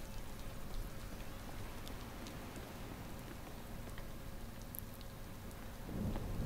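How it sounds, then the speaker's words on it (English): Steady heavy rain pours down with a low rumble of thunder in a video game, swelling louder near the end. "I like the sound of thunderstorms and rain."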